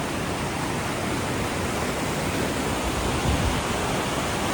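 A waterfall on a forest hiking trail gives a steady, loud broadband roar of rushing water that fills the whole scene without pause.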